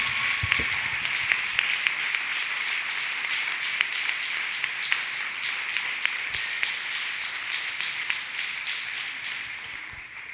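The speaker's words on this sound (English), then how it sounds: "Let us clap hands beautifully for Jesus Christ." A church congregation claps hands for Jesus Christ in a long, even stretch of massed clapping, dense and bright, with occasional louder individual claps near the front.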